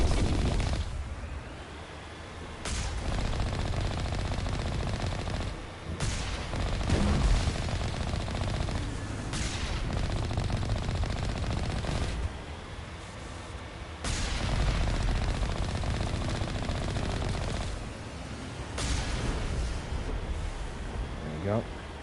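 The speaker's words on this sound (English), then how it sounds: "There's the artillery, Shepard." Sustained heavy gunfire and artillery barrages rumble through a battle in the sci-fi shooter Mass Effect 1 Legendary Edition on Vermire, loud and continuous with brief lulls, with voices talking over the din.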